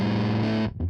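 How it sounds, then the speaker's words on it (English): An electric guitar chord rings through a Kemper red germanium fuzz model, thick and saturated, held loud for about two-thirds of a second before cutting off, followed by a brief quieter note. "Presumably this models that a germanium fuzz."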